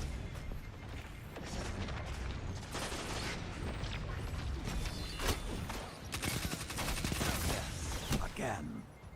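Shotgun fire and combat in the Destiny video game, a busy stretch of repeated gunshots, booms and mechanical clatter spread across the whole span, moderately loud, with talk underneath.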